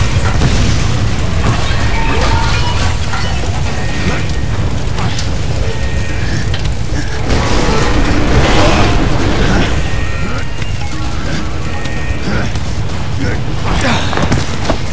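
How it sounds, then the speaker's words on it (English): Explosion in the video game Bulletstorm: loud rumbling blast and heavy mechanical crashing noise, continuous booming and debris through the whole stretch, with voices talking over it. "I predict an imminent detonation within the gravity core generators."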